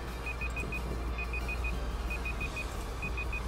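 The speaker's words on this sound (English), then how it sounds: "What the fuck is that beeping?" Electronic beeping during a streamed video game draft league session, a quiet repeating pattern of short pulses in groups of four or five with brief pauses, sitting faintly over a steady background hum.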